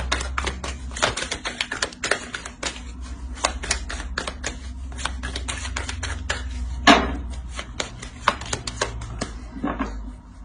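Tarot cards being shuffled and handled to draw a single card, a dense run of quick papery flicks and snaps continuing steadily for about ten seconds, with one sharper louder tap midway and no talking.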